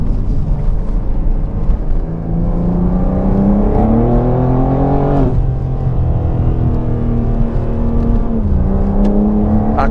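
A BMW M4 G82 Competition with a new aftermarket exhaust accelerates hard, its loud, close engine note climbing steadily through the gears with brief dips at each shift and no talking over it.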